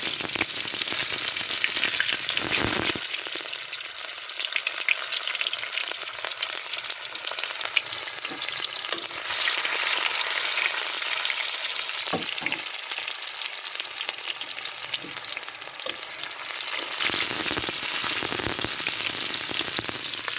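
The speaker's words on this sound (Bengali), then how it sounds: "পেঁয়াজ কুচি আপনারা এভাবে 1 মিনিটের মতো ভেজে নেবেন" Three chopped onions fry in hot oil, giving a loud, steady sizzle that runs throughout with a few brief dips, all with no talk.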